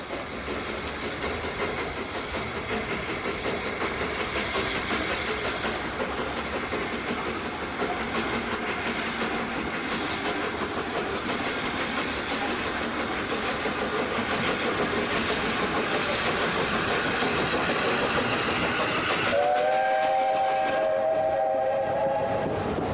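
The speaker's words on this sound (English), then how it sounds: "It's now probably the most advanced British steam locomotive ever." A British steam locomotive, the sole 8P class engine, runs close by with a steady heavy rumble and rhythmic rail clatter throughout, then sounds a loud whistle near the end.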